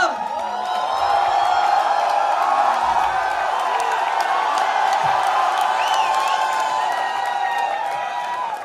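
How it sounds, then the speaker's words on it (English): An audience at a Techfest launch event cheering and applauding as a guest is welcomed, a sustained loud roar of clapping, whoops and shouts that holds steady and fades slightly at the end. "with a huge round of applause, let's welcome Miss Yami Gautam"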